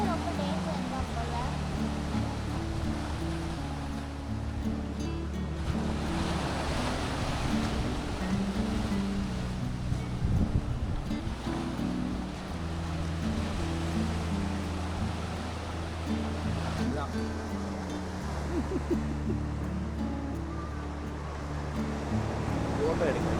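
Sea waves wash onto a beach at Mandaikadu, making a continuous broad surf roar with swelling wave rushes, while people talk over it throughout.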